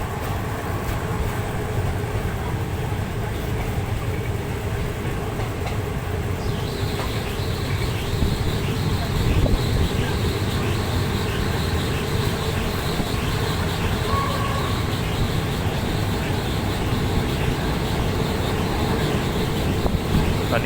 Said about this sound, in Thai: จะได้เห็นเส้นทางตอนที่รถเร่งเครื่องขึ้นเขานะว่าเป็นยังไงบ้าง